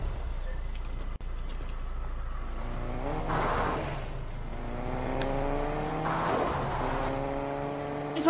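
A car drives in Fortnite, engine droning steadily then rising in pitch through two revving accelerations, with a brief tire-squeal quality, close and alone.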